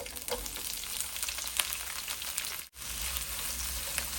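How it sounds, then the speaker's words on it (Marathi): Chopped onions sauté lightly in a little olive oil in a wok for rice noodle chow mein, producing a steady, close, hissing sizzle that carries on with only one brief dropout. "आणि हलकं असं परतून घ्यायचं आहे आपल्याला"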